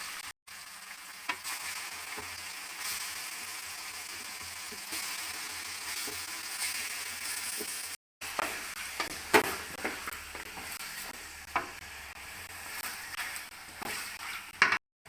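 Chicken frying in oil with ginger and garlic for a Pakistani chicken masala, a soft, continuous sizzle with occasional spoon scrapes and clinks, fairly quiet and distant, with a brief cut midway.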